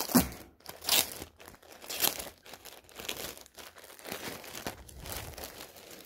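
Plastic packaging around a pair of Adidas Essentials black Trefoil joggers is opened, producing close crinkling, crumpling and tearing in several irregular bursts over a few seconds, with no talking.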